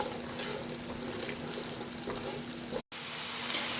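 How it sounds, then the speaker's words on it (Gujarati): Chopped onions sizzle steadily in hot oil for okra curry, a dense continuous crackle with a faint scrape of stirring, close and fairly loud with no talking. "હવે આ ડુંગળીને આપણે જરાક એને તરાવા દઈશું કે શું ફાઇન જરાક પોચી થઈ જાય"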